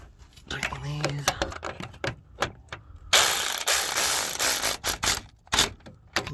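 A ratchet tightens bolts while a radiator goes into a Saturn LS1 car: short bursts of rapid mechanical clicking, then a louder sustained rattling stretch, heard close up with someone talking at times.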